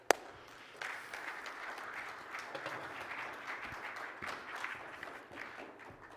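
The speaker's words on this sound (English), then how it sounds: "give a big round of applause for Christopher Lawrence" An audience applauds for several seconds, the clapping a steady, dense wash that sounds fairly faint and distant.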